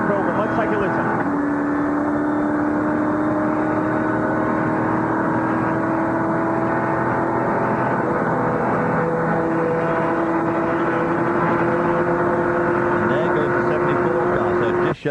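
Race car engine at the 2004 Rolex 24 heard from onboard, a loud continuous drone with gear changes made early at low revs, under a commentator's voice.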